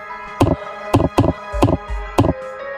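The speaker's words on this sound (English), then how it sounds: "the distinct thud of stones hitting the farmhouse roof" Five heavy, evenly spaced thuds strike, like stones hitting a farmhouse roof at night, each landing loud and close with brief silence between.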